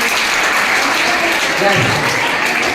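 An audience at a teacher-education college event claps loudly and continuously in a dense, even wash of applause, with some voices mixed in.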